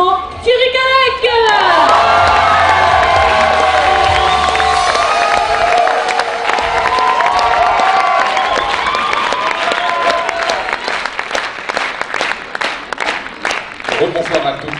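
Evening stage show audience cheering, whooping and clapping for the Lions Club president as he comes onstage, loud shouts and yells at first giving way to sustained applause with individual claps standing out.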